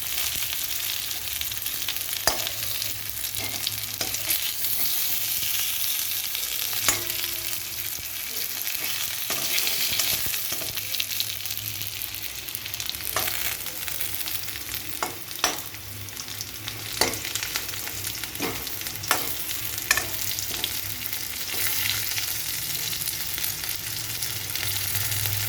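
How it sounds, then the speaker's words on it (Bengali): Potatoes fry in a pan over high heat, giving a steady, close sizzle throughout with occasional sharp crackles and spatters and light scraping as they are moved. "আঁচটা বাড়িয়ে দিলাম, তাড়াতাড়ি করে আলুটা ভেজে নিই।"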